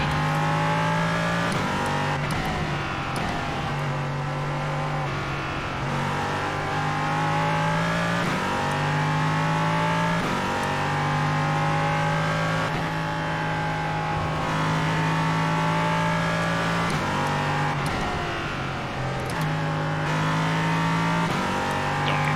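An LMP3 race car engine in the iRacing simulation at Watkins Glen drones loudly and continuously, its pitch climbing through each gear and dropping sharply at repeated downshifts.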